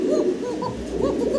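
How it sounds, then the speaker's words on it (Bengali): A pair of Lahori pigeons coo close by, soft rolling throaty coos repeating in quick succession over a steady low hum. "শুনতেই পারতেছেন আপনারা। প্রচুর ডাকে, প্রচুর ডাকে, খুব অ্যাক্টিভ একটা পেয়ার।"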